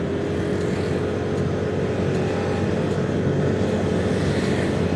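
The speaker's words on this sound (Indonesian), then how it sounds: "Kita coba salip dulu ini mobil ya." A car overtakes another car on a hilly country road between Sagalaherang and Ciater in West Java; a steady, close engine drone and road rumble hold without a break and stay loud throughout.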